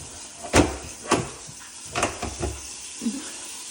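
A loose cupboard door in a house is handled, giving a handful of separate wooden knocks and clunks spaced about half a second apart, fairly close.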